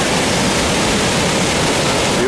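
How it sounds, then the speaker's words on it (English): Niagara Falls in full summer flow roars as a loud, steady, close wash of falling water that fills the whole short stretch without a break. "It's full of water in the waterfalls."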